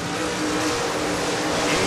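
Superior Auto Modified race cars running on an oval track, a continuous dense roar of several engines with a faint rising whine, steady and fairly loud with no talking.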